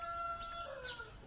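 Chickens packed in boxes cluck and murmur at close range, with a sustained tonal call threading through a few short, rising squawks, brief and steady with no talk.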